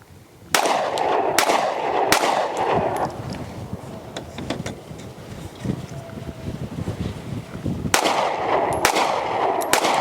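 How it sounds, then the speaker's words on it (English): Pistol shots from compensated and ported compacts, including the Sig P365XL Spectre Comp, crack outdoors at a range: a quick string of loud reports, a lull, then another string, with steady wind rumble throughout. "shooting the Spectre Comp, the Z365XL with no porting, and then the Hellcat RDP with their threaded on port"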